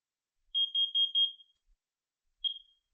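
A smoke and carbon monoxide detector made by CUD sounds during an alarm test: a quick run of about six high, piercing beeps, then a pause and a single beep, loud and close, with no talk.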